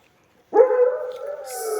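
A dog lets out one sustained, wavering howl up close after a moment of silence, holding the drawn-out cry to the end with no speech.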